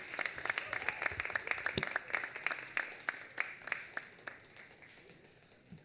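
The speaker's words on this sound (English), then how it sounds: "another final round of applause for each and every one of them" A small audience at a Boston poetry reading claps in a final round of applause, sharp individual claps standing out at moderate distance and gradually thinning toward the end.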